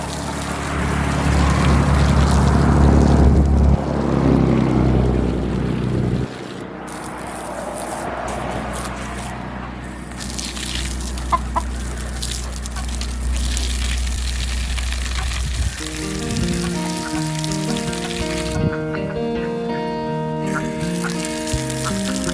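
Water gushes steadily into a backyard duck pond during watering chores, a loud broad rush that eases off partway through, with ducks and chickens calling nearby.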